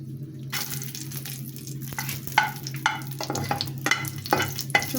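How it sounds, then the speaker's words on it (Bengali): Dried chillies frying in the same pan just used for pumpkin, a steady close sizzle with scraping stirs and light clinks, no talk. "এখন আমি একই ফ্রাই প্যানে ভেজে নিচ্ছি কিছুটা শুকনো মরিচ"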